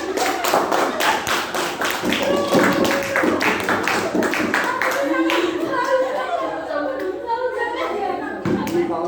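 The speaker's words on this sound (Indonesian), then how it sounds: "Ayo berikan tepuk tangan." Children in a classroom clap their hands together in quick, loud bursts of sharp claps, then trail off into scattered claps amid children's chatter.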